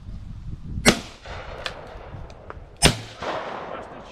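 Two sharp, close shotgun blasts from pigeon shooting over a bean field, spaced about two seconds apart, with faint outdoor rustle between them.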